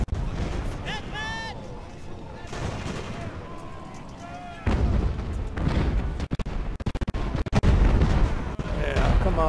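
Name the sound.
mortar fire from the video game Ultimate Admiral: Age of Sail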